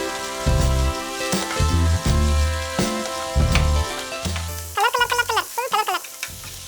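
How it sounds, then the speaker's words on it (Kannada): Mixed vegetables sauté in a pan for pineapple fried rice, with bursts of sizzling and stirring scrapes coming in uneven waves, close by, while music plays underneath. "ಇದು ಚೆನ್ನಾಗಿ ಹಿಂಗೆ ಸಾಟೆ ಮಾಡಬೇಕು, ಫ್ರೈ ಮಾಡಬೇಕು ಚೆನ್ನಾಗಿ."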